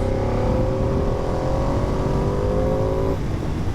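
A 2025 Ducati Panigale V2S engine pulling hard in fourth gear from 40 mph at about 3,500 rpm, its rising tonal whine climbing steadily for about three seconds before the throttle eases, loud and close.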